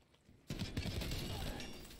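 Gunfire in the online shooter Call of Duty: Cold War, a sudden burst of loud, dense firing and impacts that runs on continuously for over a second and a half.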